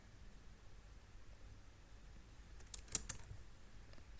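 A few soft keystrokes on a computer keyboard while typing a DB2 database query, faint and close in a quiet room, bunched together near the end of the clip.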